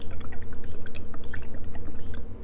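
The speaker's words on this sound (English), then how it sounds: "I'm going to put a little more water into your face." Wet, rhythmic dabbing and dripping sounds from water applied during an ASMR face treatment, close and steady with soft squishy pulses repeating for a couple of seconds.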